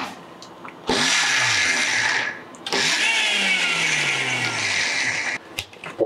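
A kitchen mixer grinder pulses moong dal into a coarse batter, whirring in two loud bursts of about one and a half and three seconds, each winding down with a falling motor pitch, followed by brief clicks.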